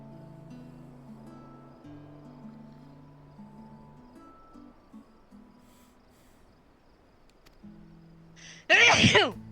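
A single loud, sharp sneeze bursts out near the end, standing clear above a quiet stretch of game background music with soft tones.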